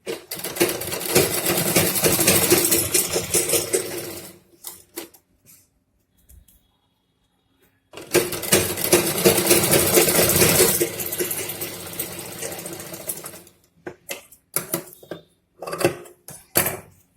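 Sewing machine stitching along folded buckram for a Patiala salwar, running in two loud continuous bursts with a pause between and short intermittent stitches near the end, with no talking.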